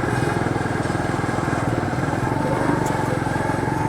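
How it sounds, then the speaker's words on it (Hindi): A motorcycle ridden across a dry sandy riverbed at Head Panjnad, its engine thrumming in a steady, close, pulsing drone that runs the whole way through with no talk. "दरिया दे तल दे विच मैं मोटरसाइकिल चलाई वदा।"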